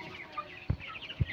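Hens in a poultry farm shed cluck softly nearby, with a couple of low thumps and faint background chatter of the flock.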